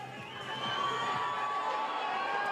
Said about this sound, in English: Giving the crowd plenty to cheer about